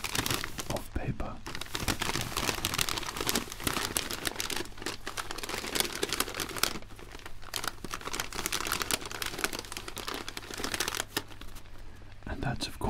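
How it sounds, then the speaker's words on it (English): A paper popcorn bag in a cinema crinkles and rustles close up in repeated bursts of crisp crackling, with soft whispered talk alongside. "But this particular cinema, we have the more traditional sounds here of paper."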